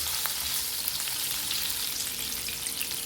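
Potato and paneer curry in coconut gravy sizzles steadily in a pan, a constant bright, crackling fry that holds at an even level for the whole stretch, with no talking.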